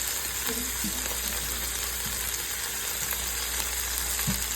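Italian sausages searing in a pan with onions, green peppers and fresh garlic give a steady, close sizzle and frying crackle, with a few faint stirring knocks and no talking.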